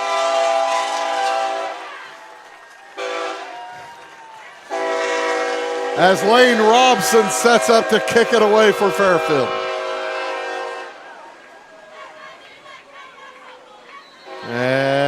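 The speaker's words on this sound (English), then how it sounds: "the namesake train coming through" At a high school football game between Fairfield and Eldorado, played beside a train yard, a passing train blares its horn in long, loud, sustained blasts while an announcer keeps talking over the noise.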